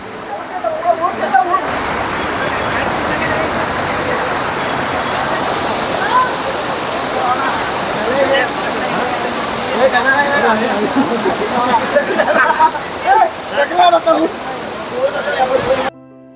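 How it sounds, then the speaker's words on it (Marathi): A waterfall at Amboli roars steadily, a dense rush of water falling over black rocks with splashy texture throughout, with some faint voices mixed in. "हा बघा एक धबधबा."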